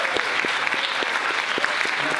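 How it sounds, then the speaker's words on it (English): Audience applause for volunteers at a tech community talk, brisk crowd clapping with sharp individual claps audible, loud and sustained throughout. "would you please join me in a round of applause for our volunteers"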